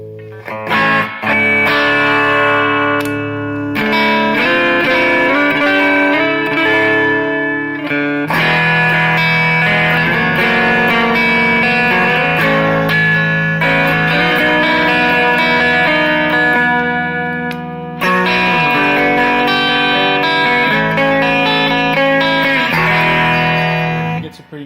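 An electric guitar rings out through a Peavey Classic tube combo amp in a glassy clean tone, loud sustained chords and melodic phrases with brief pauses between passages.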